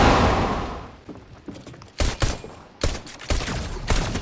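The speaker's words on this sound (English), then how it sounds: "Who's shooting? Not me. Oh, that was me." Gunfire in the video game Fortnite: a fading wash of noise gives way to several loud, sharp bursts of shots in quick clusters, close and punchy, with short gaps between volleys.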